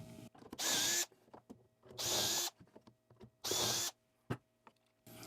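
A power drill whirs into wood through a dowel jig in three sustained bursts about a second each, then starts a fourth, with clicks and handling knocks between, close and loud.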